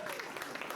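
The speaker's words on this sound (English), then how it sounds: "you can applaud for that" Audience applause at a political league breakfast event, a steady wash of clapping from a crowd in a room, brief and fairly faint throughout.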